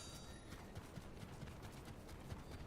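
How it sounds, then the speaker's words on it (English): Footsteps in the Fortnite video game, a steady run of soft thuds against a busy, noisy game mix with no clear talk. "There were footsteps. I heard them."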